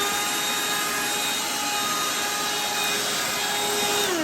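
A cordless handheld vacuum runs steadily on a hard surface while sucking up ground pepper, its continuous whining motor hum close and even with no talking, the pitch gliding slightly near the end.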